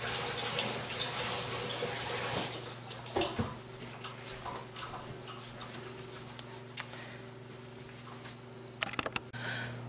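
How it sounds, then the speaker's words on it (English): Tap water runs steadily in a kitchen sink while hands are washed beneath it, a continuous broadband rush with a few soft knocks and splashes, fairly close and with no talking. "Now I'm going to wash my hands."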